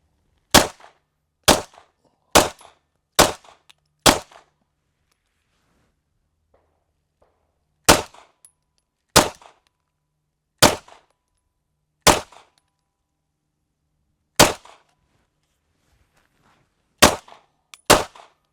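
Sharp gunshots from a shooting drill: a quick string of five cracks, a pause, then further spaced single and paired shots, loud and close with short echoes and no talk.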